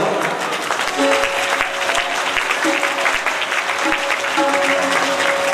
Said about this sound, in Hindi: दोनों हाथ उठा करके ताली की सेवा करते हुए हम लोग